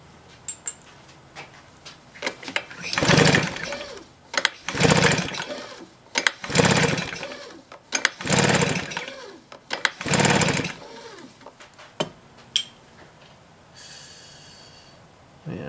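A Husqvarna 150BT backpack blower with a suspected worn piston and cylinder is cranked over for a compression test, giving five loud, rasping pull-start bursts about two seconds apart, each with a whooshing chug.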